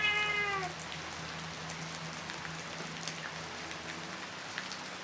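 Light rain falls steadily as a soft, even hiss at a modest level during an evening meal in the rainy season, while a cat meows briefly at the very start.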